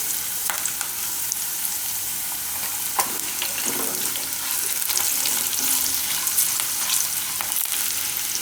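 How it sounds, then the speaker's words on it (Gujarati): Tempering for Gujarati dahi sabudana crackling in hot oil, a continuous bright sizzle with scattered sharp pops and occasional stirring clinks, close and unbroken. "આ રીતનું વઘાર તૈયાર કરવાનો"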